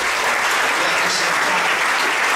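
A church congregation applauds their pastor in dense, steady clapping that fills the room without a break, loud and close.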